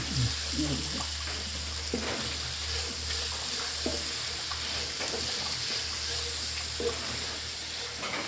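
Onions fry and sizzle in a pan, giving a steady low hiss with occasional stirring scrapes, while indistinct talk carries on in the background.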